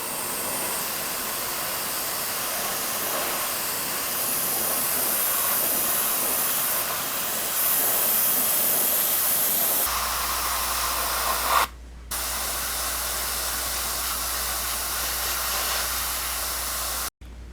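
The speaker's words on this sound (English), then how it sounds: "my first step is to give it a coat of primer" Spray primer being applied from a can to a Tamiya French R35 tank model: a long, steady, close hiss with slight variations in strength, broken by brief pauses near the end and cut off abruptly, with no speech.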